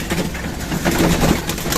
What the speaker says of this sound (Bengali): তো এই কবুতরগুলোকে খাবার দিতে হবে